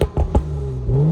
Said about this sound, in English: you can tune the burbles on your car and you can make them more aggressive